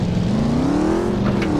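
A Mustang engine in Battlefield 2 revs up loud and close, its pitch climbing steadily as the car drives off, with a brief higher whine near the end.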